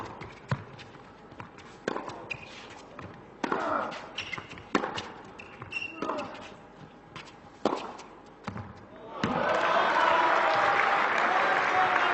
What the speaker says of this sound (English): Crowd trying to lift their man.